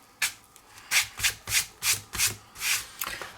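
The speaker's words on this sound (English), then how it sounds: "so I can wipe off the salt now" Dried salt is wiped off a watercolor winter-scene painting in seven or eight short, soft rubbing strokes close by, each a brief brushing swish with quiet pauses between.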